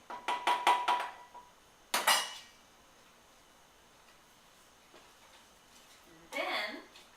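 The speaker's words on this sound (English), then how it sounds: "And I'm stirring them in" A utensil stirring thawed blueberries into muffin batter in a bowl: a quick run of clinking taps against the bowl, another short scrape, then a softer clatter later, separated by near-quiet pauses.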